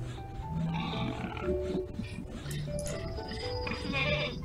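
A sheep in a video game gives soft, repeated bleats at low level, mixed with faint farm-animal sounds and background game audio.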